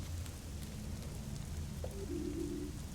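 Steady rain falls in the Fall of Porcupine video game, a continuous even hiss with faint drips, alone with no talk, and a brief tonal sound near the end.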